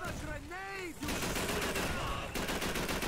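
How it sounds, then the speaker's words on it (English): Call of Duty 3 combat: a voice with a wavering tone opens, then a heavy burst of gunfire and a blast-like roar fill the rest, loud and continuous, with talking mixed in. "It sure was a grenade, you're damn right."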